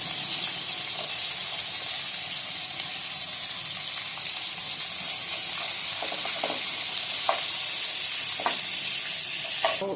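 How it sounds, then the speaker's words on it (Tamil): Onion, cloves, cardamom and fennel sauté in a hot pan for a paneer kurma, giving a steady, loud, close sizzle with a few light scrapes of stirring near the end. "கிராம்பு, ஏலக்காய், கொஞ்சம் சோம்பு, வெங்காயம் போட்டு வதக்கிட்டு"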